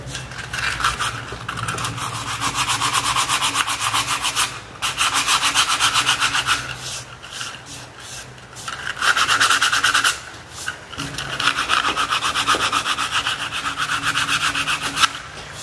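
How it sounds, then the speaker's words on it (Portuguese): Close, rhythmic scratchy rubbing of sandpaper on polyester body filler on a trike, in steady back-and-forth strokes with short pauses between passes. "Então dá pra ver que a lixa corta bem."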